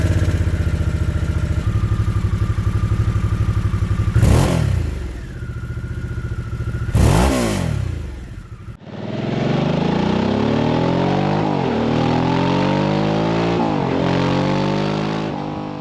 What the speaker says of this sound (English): The stock exhaust sound character is a bit different from the traditional Harley Davidson's V-twin rumble.